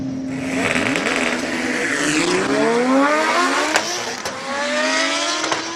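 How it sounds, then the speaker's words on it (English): Audi S1 purpose-built hill climb race car at a Cape Town speed event, engine revving hard through rising gear sweeps with sharp shifts and crackles, loud and close, passing through with no talk. "Audi S1, purpose-built for a hill climb."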